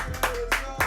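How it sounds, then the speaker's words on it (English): Audience applause for Luke Summers, heard as three short bursts of clapping spaced about a quarter-second apart, close and fairly loud. "Everybody clap it up for Luke."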